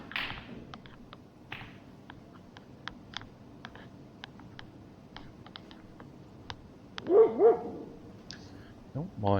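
A dog barks in short bursts near the bushes at an outdoor SSA league match, with sharp clicks from ball strikes scattered throughout and a louder cluster of barking toward the end.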